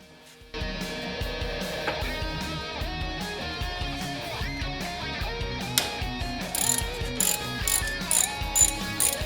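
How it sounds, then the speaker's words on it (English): A 3/8 ratchet with a 12mm deep socket clicks steadily and rapidly on a bolt of a Datsun 280Z, close and loud, in a continuous run of ratchet ticks. "Or 3/8 ratchet, 12mm socket. I need a deep socket."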